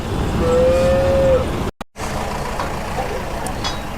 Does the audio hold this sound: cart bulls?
yes